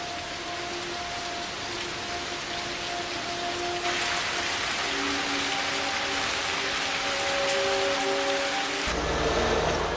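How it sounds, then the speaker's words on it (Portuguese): Incessant heavy rain pours down steadily in a wartime Pacific jungle camp, a dense continuous hiss with faint tonal hums running through it and a low rumble near the end. "Esta chuva incessante cria um problema muito maior que a lama."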